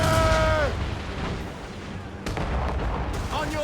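Ship cannons boom in Assassin's Creed Rogue during a naval battle, heavy low blasts with sharp reports near the start, middle and end, mixed with shouted crew voices and rumbling background.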